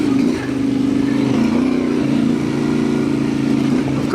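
An adventure motorcycle accelerates in second gear on a bush track through pine plantations, its engine a loud, steady, buzzing drone close to the rider that swells and eases slightly with the throttle.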